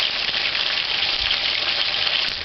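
Boiled dumplings fry in a pan with a loud, continuous, close sizzle and crackle, steady and alone without speech.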